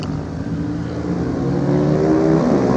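Superbike motorcycles at an East African championship race roar steadily, engine tone rising as they pass near and loud, with no talk over the sound.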